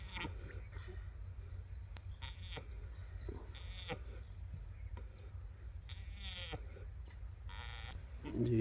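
A goat strains and bleats during labour on a farm, several short bleats spaced across the clip over a steady low rumble of background noise, fairly close.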